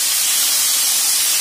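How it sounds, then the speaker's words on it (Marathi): Water splashed into a hot pan of leftover idli for masala idli erupts into a loud, steady steam hiss that stays strong throughout the moment. "त्यासाठी आपण पाणी घालणार आहे मी"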